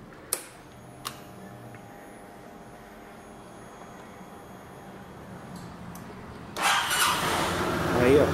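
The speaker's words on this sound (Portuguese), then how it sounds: "E vamos ligar ela aqui para ver como ficou." A Kymco Citycom 300i scooter engine in a garage after wheel bearing and axle repairs, with two faint clicks early on, then the engine catching near the end and settling into a steady running sound.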